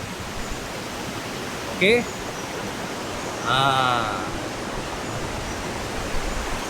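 Constant rushing noise of a river at Ulu Chepor, Perak, throughout, with a couple of brief chirpy voice sounds and a short spoken word over it.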